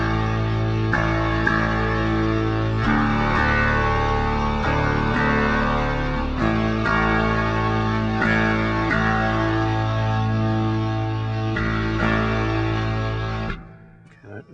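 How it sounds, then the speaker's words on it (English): 12-string bass played through the bridge pickup into a Marshall amplifier, producing dense, distorted low chords that ring out in sustained strums for about thirteen seconds before cutting off, with no talking. "Here's the sound of the bridge pickup running through the Marshall."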